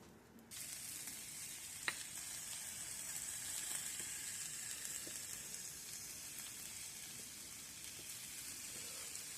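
Hash browns and potatoes, seasoned with pink Himalayan salt and garlic, sizzle in a pan at home, producing a steady soft frying hiss that begins abruptly and runs continuously with one small pop.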